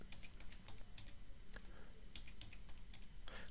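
Keys tapped on a computer keyboard in quiet, irregular bursts, close and soft, as an email address and password are entered.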